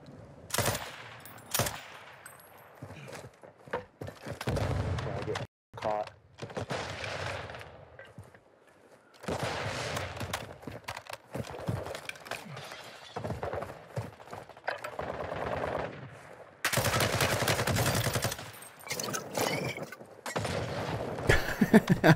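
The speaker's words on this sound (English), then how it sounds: "I'm assuming I'm shooting Brooke over there." Rapid gunfire from the video game Warzone, with bursts of automatic weapon fire and scattered single shots that come loud and close, broken by short pauses.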